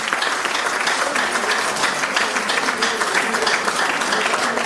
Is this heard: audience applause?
yes